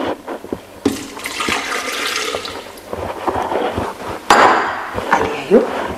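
Water poured into a pan of homemade tomato sauce gives a sustained splashing pour lasting several seconds, with a few knocks and clatters around it and a louder burst near the end.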